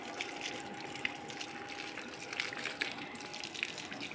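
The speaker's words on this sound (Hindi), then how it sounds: "अब मैं पौधों को पानी लगा रही हूँ" Water runs steadily from a hose or tap while plants are watered outdoors, a continuous hissing gush at moderate distance with a few small clinks and no talk.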